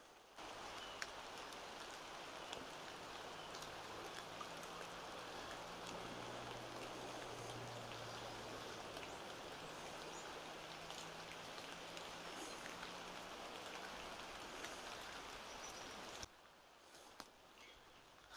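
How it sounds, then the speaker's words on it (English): Steady rain falls outdoors, a soft, even patter that holds throughout at a low, distant level with a faint low hum beneath, then thins briefly near the end; no one speaks. "Let me stop for a minute so you can hear the rain."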